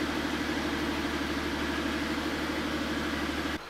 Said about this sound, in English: This must be one of the quietest V12 6-liter engines out there.